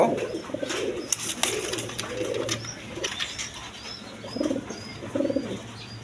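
Lahori pigeons giving low, soft, rolling coos in a few short bursts, close by, with faint chirps and background hum around them and no talk.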